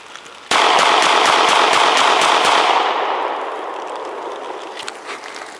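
A 9mm Smith & Wesson M&P Shield pistol fires about nine rapid, close, loud shots in a quick string, emptying an 8-round magazine plus one chambered round, then the echo rings out and slowly fades.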